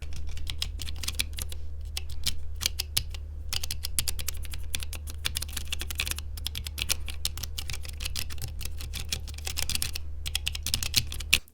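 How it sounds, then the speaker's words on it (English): Fast, continuous typing on a mechanical keyboard with linear red switches, close up, with dense rapid key clacks and brief pauses between bursts. "I moved back to the Pro Reds and I just got the love of linear switches."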